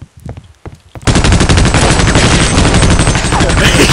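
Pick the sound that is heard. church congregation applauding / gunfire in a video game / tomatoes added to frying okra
gunfire in a video game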